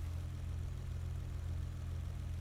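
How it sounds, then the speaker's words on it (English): A car engine in the video game GTA 5 drones steadily at low volume, holding an even, humming idle-like tone without any clear rise in revs. "Are you revving your engine?"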